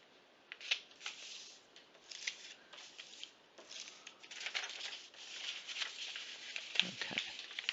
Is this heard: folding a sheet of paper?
yes